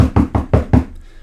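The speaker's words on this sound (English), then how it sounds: "Okay, you knock." Five firm knocks on a door in quick, even succession, close and loud, with a short quiet tail after the last rap.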